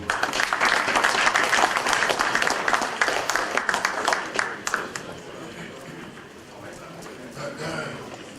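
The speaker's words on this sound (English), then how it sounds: "Round of applause for him." An audience at a reception in Houston claps loudly and densely after a guest is introduced, the applause gradually thinning and fading over several seconds as a voice continues.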